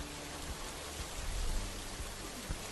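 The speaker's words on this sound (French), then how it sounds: "Désactivons le brouillard et activons la pluie, un autre effet qui est disponible dans Edificius." Simulated rain effect in Edificius architectural rendering software, a steady dense hiss of falling rain with faint low thumps, no talking.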